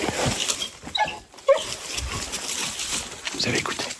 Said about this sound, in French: il est énervé le chien.